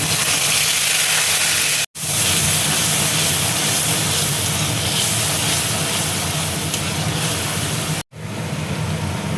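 Bay leaf, cardamom and ginger-garlic-onion paste sizzle loudly in hot oil, a dense continuous hiss broken by two brief gaps, with no voices.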